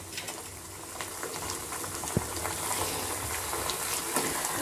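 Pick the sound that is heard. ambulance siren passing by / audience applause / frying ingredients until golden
frying ingredients until golden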